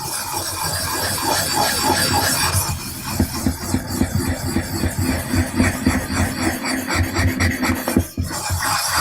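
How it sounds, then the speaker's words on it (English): A blade is rubbed back and forth on a Nagara whetstone that is raising mud, a close, steady gritty scraping that turns into rhythmic strokes partway through. "This is the Nagara stone making mud."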